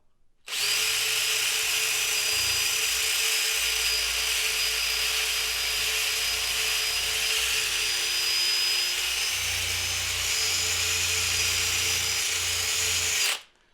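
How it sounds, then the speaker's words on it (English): A power drill bores a hole in a wooden snowshoe frame, a loud, steady whine that starts abruptly, runs unbroken for about thirteen seconds with a slight shift in load partway, then cuts off. "So I'm going to drill a second hole."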